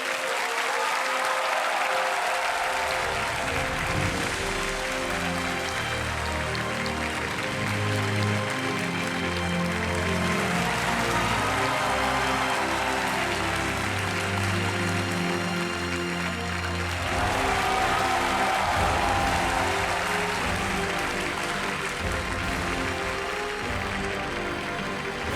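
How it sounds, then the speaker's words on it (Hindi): Sustained applause from a television quiz show studio audience fills the clip, a dense, steady wash of clapping with a swell near the end. "दीपा मलिक और मानसी जोशी का जोरदार तालियों से अभिनंदन"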